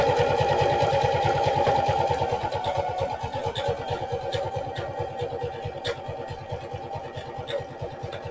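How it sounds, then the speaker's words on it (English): Loud sewing machine stitching a farmhouse-style journal pocket, with a fast, steady mechanical chatter running throughout and slowing slightly toward the end, with faint clicks over the top. "I'm sorry that this sewing machine is considerably louder than my other one."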